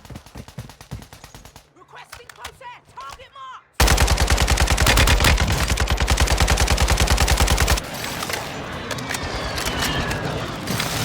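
Dense bursts of automatic gunfire from Call of Duty Warzone 2.0 gameplay, with rapid rhythmic volleys that are loud and sustained for several seconds, following a quieter stretch with scattered shots and talk.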